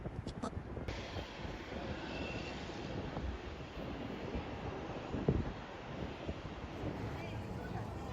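Steady broadband roar of aircraft engines at Tokyo Haneda Airport, continuous and fairly distant, with faint voices murmuring underneath.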